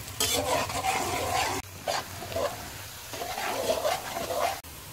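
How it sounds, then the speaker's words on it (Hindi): Onions fry in a pan for a potato and egg breakfast dish, stirred without pause so they cook evenly: rhythmic scraping sweeps over a hissing sizzle, close up, briefly interrupted twice, no speech. "प्याज को इस तरह से मुसलसल हिलाते जाएंगे ताकि प्याज सारे बराबर पक जाएं।"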